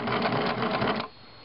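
A sewing machine stitches a liner in a quick, even whir of rapid needle strokes for about a second, then stops abruptly, close up with no talk.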